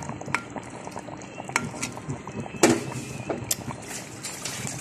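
Chicken curry simmering in gravy on a stove, with soft bubbling and scattered clinks and scrapes of a utensil against the pot.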